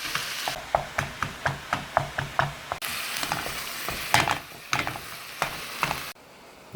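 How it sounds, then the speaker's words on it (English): Ground beef hamburger broken apart and browned in a pan for tacos, with a steady run of sharp scraping stabs at a regular beat over a low sizzle, then a louder, more uneven stretch of scraping before a brief lull. "And just break your hamburger apart here."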